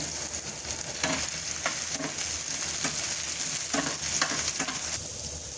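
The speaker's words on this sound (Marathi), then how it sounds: "थोडंसं तेल टाकायचं आणि आपल्याला कांदा चांगला भाजून घ्यायचा आहे" Thin, long-sliced onion frying in a little oil for a spicy modak aamti, a steady close crackling sizzle broken by several soft stirring scrapes, with no one talking.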